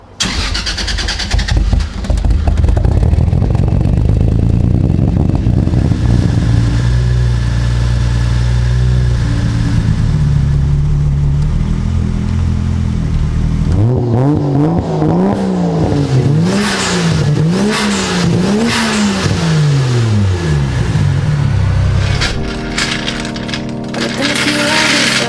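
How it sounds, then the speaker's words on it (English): A Toyota Soarer engine cranks and starts, then runs loud and close at a steady idle, with a few revs and a whining rise and fall partway through before settling again. "The only thing now left to do is just turn on the car, bleed the system"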